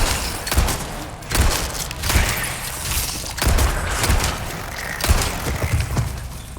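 Repeated gunfire bursts from the Resident Evil 4 Remake, heard in the Separate Ways DLC inside the church safe house, with loud shots every second or so over a busy, noisy game mix.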